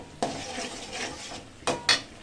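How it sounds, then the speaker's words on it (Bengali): Pieces of katla fish are stirred with turmeric powder in a pan, with a steady soft scrape and sizzle broken by a few sharp clinks of the utensil against the metal, close up and without talk. "হলুদের গুঁড়া দেওয়ার পরে এভাবে একটু নাড়িয়ে নেবেন।"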